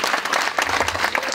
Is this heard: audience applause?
yes